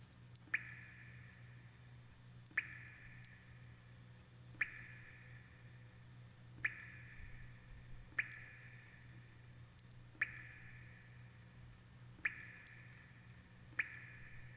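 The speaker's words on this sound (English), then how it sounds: "I just like listening to the dripping." Water dripping in the Resident Evil Code: Veronica video game: single drops fall at a slow, steady pace about every two seconds, each a sharp clear plink over a constant low ambient hum.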